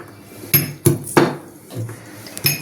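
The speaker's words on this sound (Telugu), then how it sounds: "ఇవి కొంచెం ఇలా కచ్చాపచ్చాగా ఇలా దంచుదామండి" Six garlic cloves are pounded coarsely by hand, giving about five sharp, close thuds at an uneven pace with a metallic clink in each strike and no talk.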